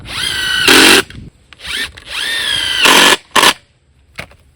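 Power drill pre-drilling holes in deck wood for 3-inch deck screws outdoors, heard as two sustained whining runs with rising and falling motor pitch, separated by short gaps and brief bursts, close and loud.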